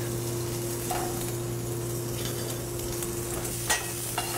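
Bacon sizzles gently in a pan before trout is seared, a soft, even crackle at low volume with a couple of faint utensil clinks near the end. No voices.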